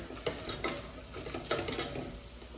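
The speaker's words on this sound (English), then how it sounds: "let's mix this in here" Dried oyster mushrooms stirred through melted butter in a pot, giving a soft scraping churn with faint sizzling and a few light utensil knocks against the pot.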